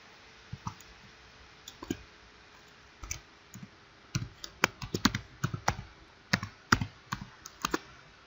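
Typing on a computer keyboard, with irregular bursts of crisp, close key clicks and taps, sparse at first, then quicker clusters, with no talking.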